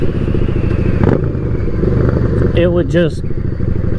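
A motorcycle idling at just a little throttle, a loud, steady low engine drone that runs throughout, with someone talking over it.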